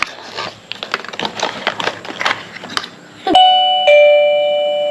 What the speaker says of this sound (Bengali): এটা কি কলিং বেল তো ওয়্যারলেস